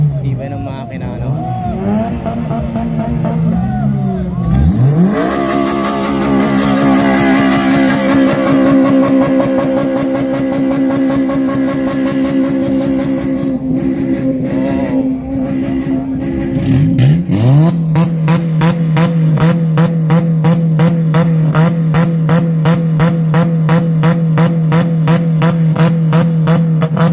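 A Honda engine revs at an outdoor Honda car show in Canada, loud and close, the revs rising and falling repeatedly before settling into a strong steady drone, with people talking over it.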